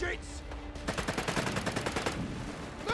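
Rapid bursts of submachine gun fire in the World War II strategy game Company of Heroes 3, a steady rattling stream of shots at moderate distance with battle noise around it.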